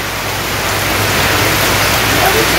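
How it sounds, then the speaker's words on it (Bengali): Heavy rain pours down in a Bangladeshi village as a loud, unbroken, hissing wash of falling water close by. "সারা রাত্রি বৃষ্টি।"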